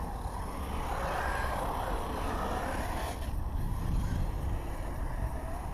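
An HPI Vorza S Flux electric RC buggy with Draco upgrades runs at full throttle outdoors, giving a steady, loud, rushing whine with wind-like noise that holds throughout.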